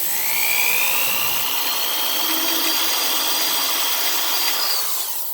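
A drill bores a hole in a plastic harmonica slider for a Seydel Saxony, giving a continuous high whine that holds steady for several seconds before easing off at the end.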